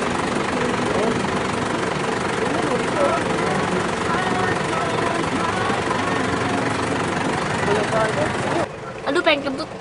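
Steady loud engine drone with a knocking rumble runs for most of the stretch, then cuts out near the end, leaving brief voices and quieter sounds.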